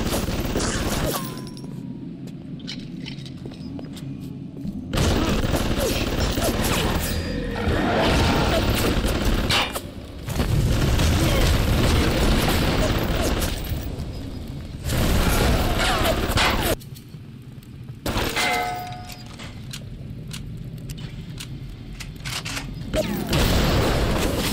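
Bursts of machine gun fire and heavy explosions crash through a Bioshock firefight, coming in long dense loud stretches broken by short pauses, with a voice talking briefly in between.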